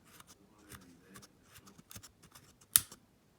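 Several small plastic clicks come from the speed dial of a D-Works rotary multi-tool being turned, scattered and faint, ending in one sharper, louder click near the end.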